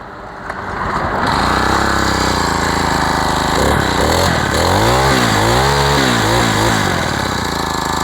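A small four-stroke petrol engine runs loud and close, starting from a quieter moment and then holding a steady drone, with its pitch rising and falling through several short revs.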